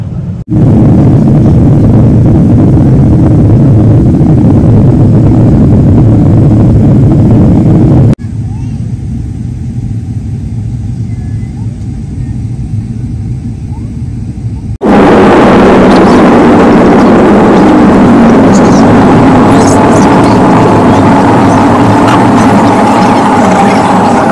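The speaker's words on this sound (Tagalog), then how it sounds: "Naghahanap pa yata ng lugar ang eroplano, guys, kung saan ihinto yung eroplano." An airplane taxis after landing, its engines and cabin producing a loud, steady low roar that drops to a quieter hum midway, then rises again to a broad whooshing drone.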